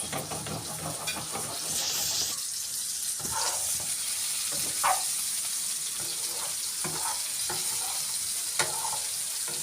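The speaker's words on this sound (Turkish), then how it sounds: "Tavanın içine koydum biraz bunu. Böyle biraz kızartıyorum." Köfte meatballs sizzle and crackle in a hot pan for a sour, saucy Turkish meatball dish, a steady close frying hiss broken by scraping stirs and a few sharper pops.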